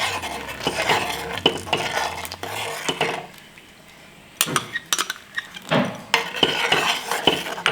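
A spoon scrapes and clinks against a pot while custard milk thickened with cornflour is stirred slowly over a low flame, in uneven bursts of close metallic scraping with a brief quiet pause midway.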